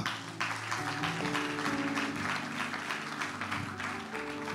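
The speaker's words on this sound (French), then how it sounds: "Acclame très fort." A church congregation applauds loudly and steadily, dense sustained clapping filling the room under a low musical drone.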